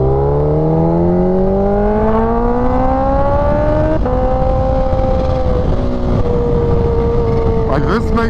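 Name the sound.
sport motorcycle accelerating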